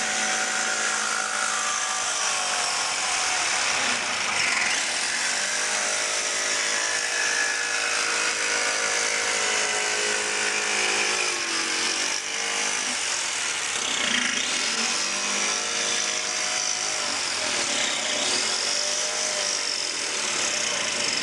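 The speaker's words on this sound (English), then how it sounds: "So we put the jigsaw on." A jigsaw running continuously through a delicate workpiece, a loud, steady buzzing whine with a slightly wavering pitch, close by and sustained for the whole stretch with no talking.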